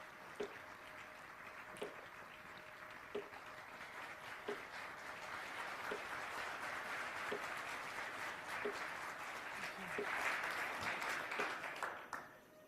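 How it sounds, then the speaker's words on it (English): Sustained audience applause fills a banquet hall celebrating a return to Korea, a broad steady wash of many hands clapping that swells toward the end, with faint periodic ticks underneath and no talk over it. "Let us welcome Mrs. Kathy Rigney with a thunderous round of applause."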